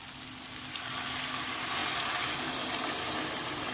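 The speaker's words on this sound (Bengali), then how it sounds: "এবার জল দিয়ে দিচ্ছি" Water poured into a hot pan of egg curry with potatoes, a loud continuous hissing sizzle that holds steady for several seconds, close and alone.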